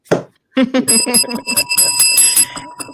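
A bright bell rings with sustained metallic tones, struck repeatedly in a quick jangling burst after a brief thump at the start.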